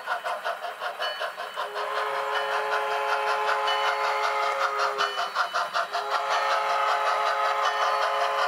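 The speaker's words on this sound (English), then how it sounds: "Try to blow the whistle for blind corners." An On30 model railroad steam locomotive chuffs rhythmically while its whistle sounds in sustained tones, fairly close and steady, with no talking.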